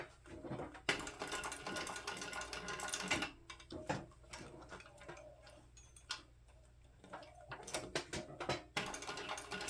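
A sewing machine stitches along the edge of a handbag strap with a soft, rapid ticking rhythm, running in bursts with brief pauses, faint and close.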